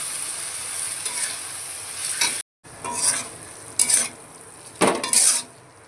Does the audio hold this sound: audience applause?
no